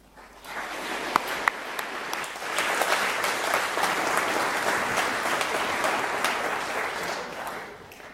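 Audience applause welcoming Professor Gazzaniga to the lectern at a 2009 lecture, a dense, steady wash of many hands clapping that swells quickly, holds for several seconds with a few sharper claps, then tapers.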